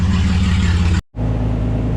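Samsung-free loud car engine with the exhaust cut off, droning with a heavy low rumble, abruptly dropping to a brief silence before the raw, unmuffled engine noise returns.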